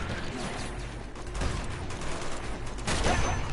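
Shotgun fire in the Uncharted video game, a dense stretch of gunshots and mechanical clatter at moderate loudness, growing stronger near the end.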